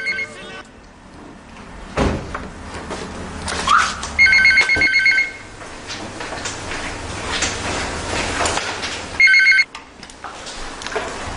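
A telephone bell rings in short electronic bursts, twice with a pause between, indoors amid household noise and shuffling.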